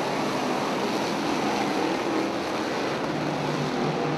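358 modified race cars roar around Big Diamond Speedway as racing resumes, a dense, continuous wash of engine noise at a steady, loud level with no breaks.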